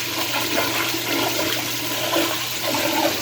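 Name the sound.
American Standard toilet flushing for a long time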